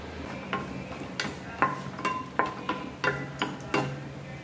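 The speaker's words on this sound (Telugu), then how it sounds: "దీనిలోకి కొద్దిగా దాల్చిన చెక్క, 2 బిర్యానీ ఆకులు, 1 టీ స్పూన్ జీలకర్ర వేసుకొని ఫ్రై చేసుకోవాలి." Cinnamon, bay leaves and cumin frying in a pan for a rajma masala curry, with a soft steady sizzle under irregular clinks and scrapes of a spoon stirring against the pan.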